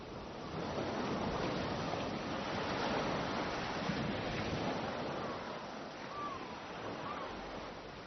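Sea waves wash onto beaches in a steady broadband roar, continuous and fairly loud throughout, with no talk over it.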